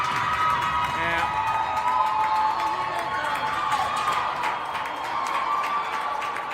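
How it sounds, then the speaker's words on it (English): A youth hockey crowd in Eagan cheers and shouts after a PeeWee goal, a dense, sustained roar of voices with whoops and clapping filling the arena, steady and loud throughout. "the Eagan crowd goes nuts, getting their first goal on the board"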